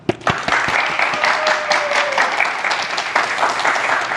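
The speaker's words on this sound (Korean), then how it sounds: "우리 박수로 청해 듣겠습니다" Audience applause at a televised political talk concert in Korea, opening with a few sharp claps and then swelling into sustained, dense clapping from a large crowd.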